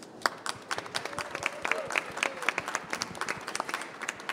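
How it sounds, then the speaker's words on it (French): A modest audience claps at a book presentation at a Brussels book fair, scattered individual claps forming light, fairly quiet applause with no voices. "Donc je propose vraiment, parce que c'est une fée, qu'on l'applaudisse."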